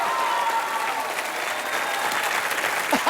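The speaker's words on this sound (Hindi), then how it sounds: "जोरदार तालियां एक बार।" Enthusiastic studio audience applause on a Hindi TV comedy show, dense and sustained clapping from a crowd throughout, ending with a faint voice near the end.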